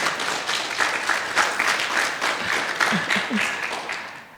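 An audience applauds a speaker after a talk on plant-based diet, dense even clapping at moderate volume with a few brief vocal sounds near the end.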